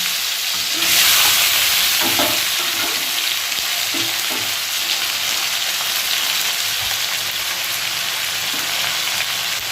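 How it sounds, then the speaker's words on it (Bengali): Cut potatoes tipped into hot oil tempered with black cumin seeds in a pan, a loud hiss that flares and then settles into a steady close sizzle, with faint stirring taps and no talk. "এবারে কেটে রাখা আলুগুলো দিয়ে দেবো।"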